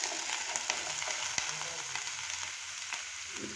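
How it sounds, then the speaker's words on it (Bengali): Garlic, onion and chopped vegetables sautéing gently over low heat in a pan, giving a steady, close sizzle with faint stirring clicks throughout and no one speaking. "সবজি কিন্তু বেশি কড়া করে ভাজা যাবে না, হালকা সতে করে নিতে হবে"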